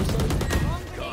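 Rapid gunfire from Valorant ranked play on the Fracture map, a dense burst of close, loud shots over roughly a second with heavy low-end thump and a slight easing toward the end.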